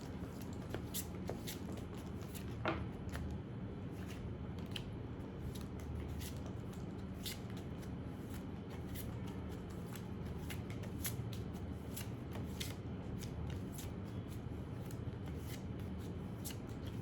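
A Mystic Monday tarot deck is shuffled continuously and close up, with steady papery riffling and soft card slaps, all with no talking.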